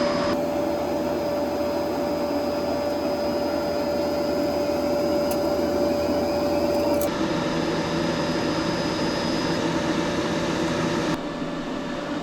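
A YesWelder MIG-250PRO-SG wire feed motor inches 030 wire through the MIG gun liner, giving a steady, even mechanical whir with a constant high whine. Partway through, the whine drops out and the drone continues to the end.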